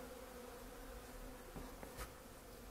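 Honey bees cluster inside their hive in mid-October after the colonies were reduced, giving a faint, steady, low hum with a few soft clicks and knocks near the end.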